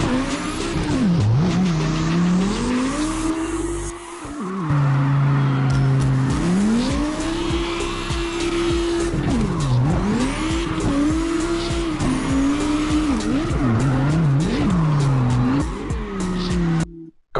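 A loud car engine in the CarX racing game revs and drops in repeated swooping pitches while tires squeal and skid almost continuously, close and dominant for over fifteen seconds with a short break near the start.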